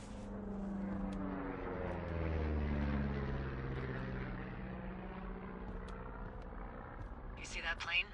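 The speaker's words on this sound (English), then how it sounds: "You see that plane?" An airplane drones overhead in the forest lookout game Firewatch, a low steady propeller hum that swells and fades over several seconds, with a faint voice and small sounds near the end.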